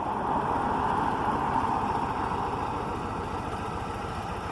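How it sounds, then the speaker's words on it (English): A 2019 Harley-Davidson CVO Road Glide motorcycle idles steadily, a low, even engine rumble that holds at constant loudness with no one speaking. "On the 2019 Harley-Davidson CVO Road Glide."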